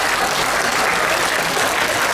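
Dense, steady applause from an audience at a Swiss National Day event in Grindelwald, saluting a group of yodelers, loud and continuous with no talk over it.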